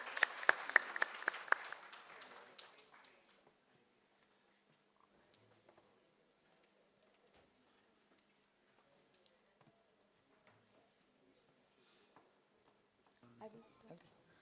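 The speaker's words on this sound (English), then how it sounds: "Please give us a round of applause." Brief audience applause at a science academy's annual session, a short burst of clapping at the start that fades within a few seconds, leaving a quiet hall with faint scattered sounds.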